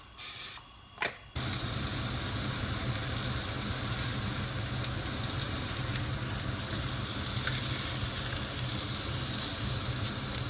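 Ham frying in a pan gives a loud, steady close sizzle that hisses on without letup after a brief quieter start, with no talking.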